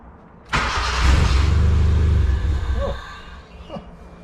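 A turbo Honda Civic EK on a Haltech ECU running E85 fires up abruptly, holds a rough, pulsing idle for about two seconds, then sags and stumbles into faint uneven sputters, with a brief voice near the end.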